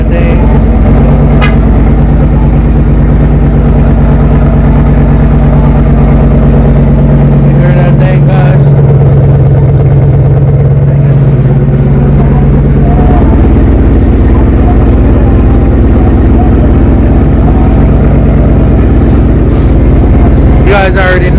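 A Jeep engine runs loud and steady at idle, a deep continuous rumble with a brief rev in the middle, and a person talks over it.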